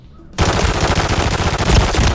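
Rapid hip-fired gunfire in a video game bursts in loudly after a short quiet start, then keeps going as a sustained automatic stream of shots to the end.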